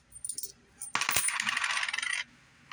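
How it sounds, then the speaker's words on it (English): A single coin flipped and dropping onto a table for a dice-style chance roll, giving a bright metallic ring and rattling spin that lasts over a second before settling, close and clear with no talk. "or 3 flips of 1 coin."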